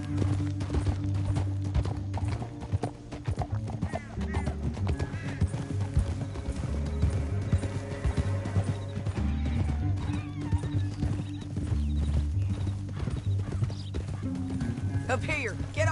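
Horse hooves clop steadily in Red Dead Redemption 2 over a busy game soundscape of music, whinnies and occasional crashes, with voices talking at times.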